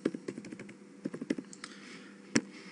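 A short name is typed on a computer keyboard: a quick burst of close, crisp key clicks, a brief pause, a few more taps and one firmer final keystroke, with no talking.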